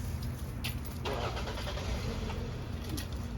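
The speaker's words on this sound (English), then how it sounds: "And car backing out, so be conscious of that." A car engine starts and runs near a yard where shrubs and trees are being trimmed, with a steady low rumble and idle that carries straight through without a break.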